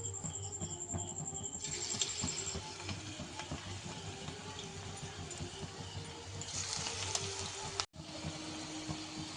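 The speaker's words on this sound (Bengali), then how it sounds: "কড়াইতে তেল বসিয়ে দিয়েছি, তেলটা গরম হয়ে গিয়েছে। এবার এটা তেলের মধ্যে দিয়ে দেবো।" Banana flower fritters (mochar chop) sizzling in hot oil in a kadai, a steady crackling hiss that swells briefly near the end, with a sharp clatter just before.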